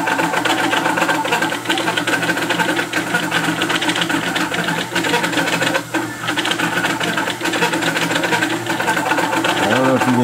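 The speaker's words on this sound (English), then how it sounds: "I just wanted to show how fast this Aluminatus is printing this Christmas tree at super precision." An Aluminatus 3D printer prints a single-wall Christmas tree at high speed, about 280 mm per second, giving a steady, loud mechanical whir with rapid stepper-motor tones and shifting pitches throughout.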